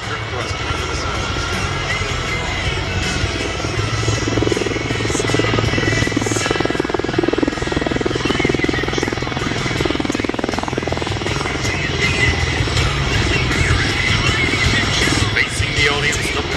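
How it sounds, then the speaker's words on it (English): A V-22 Osprey tiltrotor hovers at an air show, its deep rotor thrum and engine roar loud and continuous throughout, with an announcer's voice over a public address underneath. "The pilot will complete a 360-degree hover turn, showing the unique capabilities provided by the vector thrust themselves."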